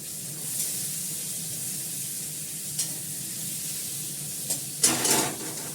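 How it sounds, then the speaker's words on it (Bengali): Onion frying in hot oil after fish has been fried gives a steady soft sizzle, with a few brief sharper spatters and stirring clinks near the end. "পেঁয়াজটা একটু হয়তো ভেজে নিয়ে"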